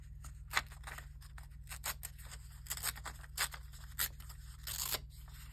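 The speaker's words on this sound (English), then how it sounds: "We tear it this way round." Paper being torn by hand for junk journal envelopes, a series of short ripping and crinkling bursts at irregular intervals, close and fairly quiet over a low steady hum, with no voices.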